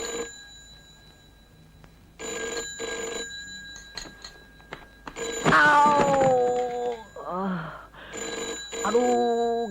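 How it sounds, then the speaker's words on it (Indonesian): An old telephone bell rings in repeated bursts indoors during a 1988 Indonesian comedy, loud and close, with people talking and shouting over and between the rings. "Telepon, berdering, ambil pun."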